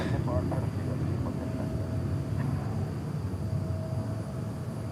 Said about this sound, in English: A West Side takeoff